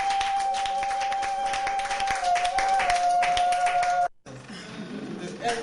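An audience at a church women's awards ceremony claps in a sustained patter under a steady sustained tone, stopping abruptly before a quieter stretch with faint voices.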